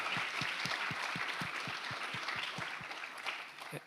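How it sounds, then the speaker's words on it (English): Applause for the organizers of an Ohio University talk event: steady crowd clapping with regular low thumps beneath it, holding level for a few seconds before easing off. "So let's give a round of applause to the organizers."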